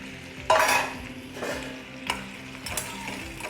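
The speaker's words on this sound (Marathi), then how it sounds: "आणि रताळ्याचे काप कापलेले आहेत ते त्या तुपामध्ये टाकून देते।" Sweet potato slices fry in ghee with a soft sizzle while a spoon scrapes and stirs them in the pan, giving a loud first clatter followed by several lighter knocks.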